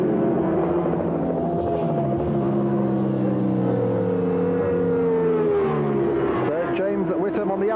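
Yamaha and Ducati superbikes race through the final lap of a 1996 British Superbike Championship round, their engines a continuous high, shifting whine that rises and falls as the bikes pass, with a commentator talking over it.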